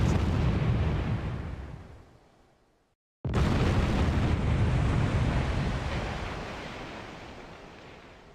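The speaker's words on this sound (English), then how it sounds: "Internal explosion." A ship blows up from an internal explosion in the naval war game War in Spain, with a loud sustained roaring blast that fades, a brief silence, then a second heavy explosive roar that slowly dies away.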